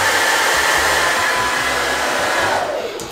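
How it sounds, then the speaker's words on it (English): A blow dryer styling freshly cut curtain bangs, a loud, close, continuous whooshing roar that holds steady before easing off at the end. "Let me take the blow dryer and pull them back."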